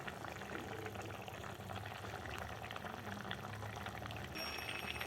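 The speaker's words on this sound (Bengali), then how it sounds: "তো আমি গরম মশলাটা দিয়ে আর 2 মিনিট মতো একটু ফুটিয়ে নিচ্ছি" Vegetarian soybean curry, made without onion or garlic and seasoned with garam masala, bubbles steadily in a pot, a dense, continuous simmering hiss with no voices.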